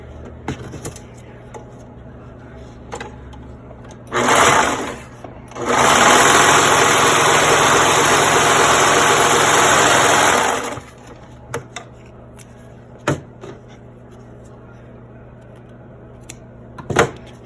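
A sewing machine stitches the inner fabric of a face mask, with a short whirring run, a brief pause, then a steady loud five-second run, and scattered clicks and handling noises before and after.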